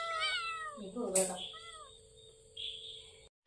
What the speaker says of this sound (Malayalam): നമ്മുടെ വീട്ടിലെ പൂച്ചകളൊക്കെ വർത്തമാനം പറയാൻ വേണ്ടിട്ട് തുടങ്ങുവേ.